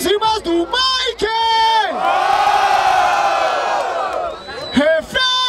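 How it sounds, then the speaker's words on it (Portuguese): A crowd at a rap battle semifinal erupts in loud, sustained cheering and whooping, with a host's shouted voice heard before and after the swell of noise. "Palmas pra essa batalha!"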